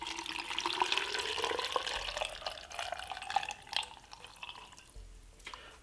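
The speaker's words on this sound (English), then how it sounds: "Now we're gonna put some water." Water pours into a blender holding cut cucumber and lemon quarters for juice, a rising, trickling splash that gets louder and then breaks into scattered drips and gurgles before tapering off.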